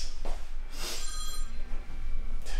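A telephone rings in a workshop setting, a repeated electronic bell tone heard over steady low background hum with a few faint bursts of noise.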